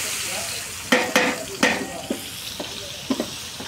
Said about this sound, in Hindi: इसमें हम लहसुन डालेंगे, इसको हमने हल्का दरदरा पीस लिया है।